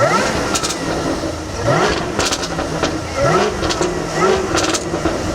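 A supercharged eight-cylinder car engine idles and revs near the microphone, steady rumble with a few rising rev swells, while voices talk over it.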